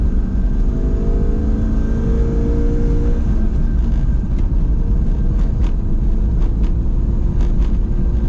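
A Chevrolet Corvette C5 engine drones as the car accelerates on the road, a loud, steady low rumble with its pitch climbing early on, heard from inside the cabin with no talking.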